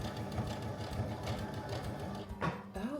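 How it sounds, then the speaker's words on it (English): Beginner's sewing machine stitching a Disney princess tote bag, a close, steady rhythmic whirr with the needle chattering evenly, then a brief clunk near the end. "I'm sewing"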